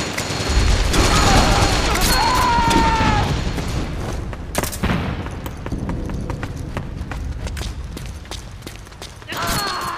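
Gunfire from the Metal Gear Online video game comes in loud rapid bursts and scattered single shots over ten seconds, with sharp cracks standing out over a busy, noisy background.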